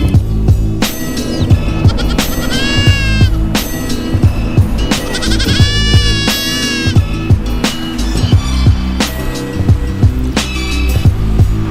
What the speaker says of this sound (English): there's goats too, and they're cute.